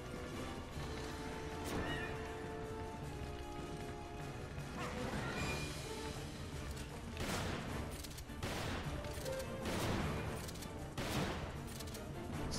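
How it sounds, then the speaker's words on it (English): Gunshots in Resident Evil 5, scattered single shots and short bursts mixed with game music and other effects, fairly faint and intermittent. "Stop shooting him!"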